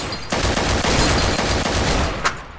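Rapid automatic gunfire in the video game Trouble in Terrorist Town, a loud dense burst of repeated shots in quick rhythm lasting about two seconds, with a final louder crack near the end and no talk over it.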